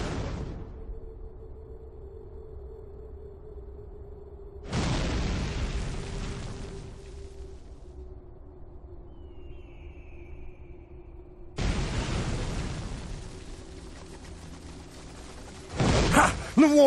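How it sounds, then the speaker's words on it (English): Cannon fire pounding castle walls in the fantasy strategy game Warhammer: Mark of Chaos, with three loud booming blasts spaced several seconds apart over a low steady battlefield drone, the last one more abrupt. "My cannons will turn these walls to rubble"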